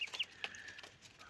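Newly hatched turkey chicks in a yard: a few faint, high, thin peeps and chirps scattered over a quiet background.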